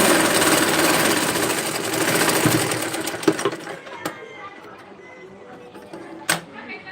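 A sewing machine stitching pants runs steadily and fairly loud for about three seconds, then stops, leaving scattered clicks and handling knocks in a quieter room.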